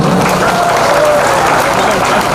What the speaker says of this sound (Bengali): আমরা হাততালি দেওয়ার জন্য